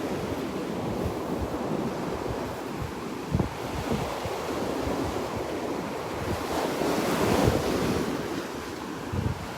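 Ocean surf rolls in steadily at Bowman's Beach on Sanibel Island while wind buffets the microphone. The wash is continuous and fairly loud, with a few stronger gusts and wave surges and no voices.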